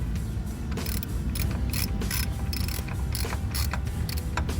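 A ratchet tightens the car battery terminal nuts on a 2000 Honda Civic, giving rapid, loud, close clicking bursts in quick repeated strokes.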